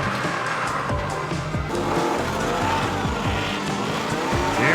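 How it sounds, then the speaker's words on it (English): A BMW E46 and a small Mazda Miata racing at Englishtown Raceway, engines droning loudly with tire squeal and skidding mixed into a steady, dense roar. "You can really see the size difference between that E46 and Thomas's little tiny Miata as they cross over the finish line"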